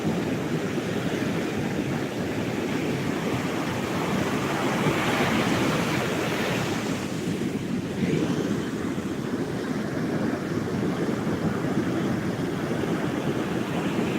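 Waves washing ashore on the Gulf coast of Mexico, a steady broad roar of surf with wind buffeting the microphone, swelling slightly midway, no voices present.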